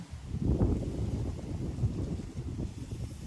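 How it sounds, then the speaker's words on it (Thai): Strong wind gusting across an open field during a vegetable harvest of melons and beans, a steady broadband roar and buffeting of the microphone throughout with no voices. "อากาศก็ดีอยู่แต่ว่าลมแรง"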